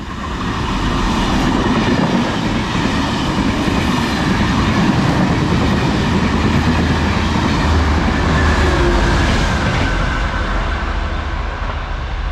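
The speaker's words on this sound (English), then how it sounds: "Here it comes, lovely tone there as well. It is set 901." Irish Rail set 901 with locomotive 206 on a Belfast Central to Dublin Connolly service passes close by, a loud, steady roar with rhythmic wheel clatter sustained throughout, no voices.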